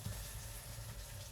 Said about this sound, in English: And then I'm also frying up some chorizo right now